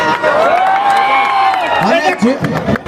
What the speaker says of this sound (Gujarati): આમના માટે જોરદાર તાળી થઈ જાય